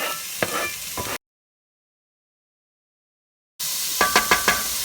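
A whole onion sizzles in a hot pan with garlic, frying steadily with a few sharp stirring clicks and scrapes near the end; the sound drops out entirely for a stretch in the middle.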